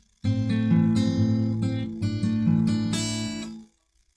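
A strummed guitar chord rings out loudly with a few quick restrikes, sustaining for about three seconds before being cut off abruptly.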